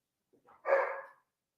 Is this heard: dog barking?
yes